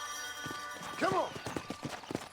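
Hooves clip-clop in uneven steps from a horse in Red Dead Redemption, with a brief whinny-like call in the middle and voices talking over the game sound.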